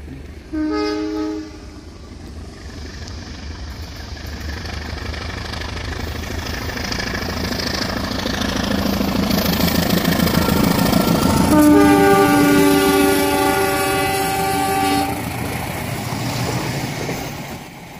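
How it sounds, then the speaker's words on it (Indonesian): The Batu Raden passenger train, hauled by a locomotive, rumbles past close by, growing louder as it goes, with loud horn blasts sounding near the start and again midway. "Kereta api Batu Raden sudah melintas"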